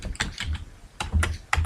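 Several quick keystrokes on a computer keyboard in Microsoft Word, close and clear, tapping in short uneven bursts with brief pauses between groups.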